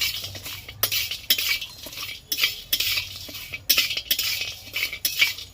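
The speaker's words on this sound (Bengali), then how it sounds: "জায়ফল তারপরে দারচিনি ছোট এলাচ লবঙ্গ জিরে গোটা জিরে অনেক কিছু হ্যাঁ একসাথে দিয়ে এগুলোকে আমি ভেজে নেবো হালকা ভেজে নেব" Whole spices such as nutmeg, cinnamon, cardamom, cloves and cumin dry roasting in a pan, stirred with a metal utensil in steady scraping strokes and light clinks, close and continuous.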